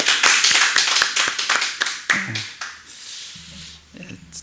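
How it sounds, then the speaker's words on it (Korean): A church congregation claps to encourage a pianist, a burst of many close hand claps that thins out after about two seconds, followed by a voice speaking. "우리 김경자매 열심히 잘하도록 격려의 박수 한번 할까요?"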